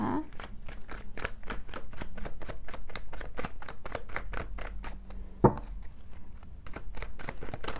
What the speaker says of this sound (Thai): สับไพ่นะคะ